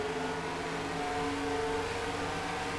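A car engine drones and revs steadily from an in-car cockpit view in a racing game, a continuous close hum with harmonic whine and no talk.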